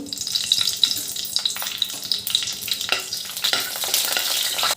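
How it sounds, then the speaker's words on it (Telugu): Cinnamon, cloves and cardamom crackle in hot oil for a chicken fry piece biryani, a close, busy sizzle with scattered pops and utensil scrapes. "ఆయిల్ ఇటెక్కిన తర్వాత చెక్క లవంగం యాలకులు అన్నీ యాడ్ చేసుకోవాలి"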